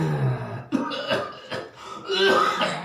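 A few short, harsh coughs and throat-clearing bursts, close and moderately loud, with voices around them.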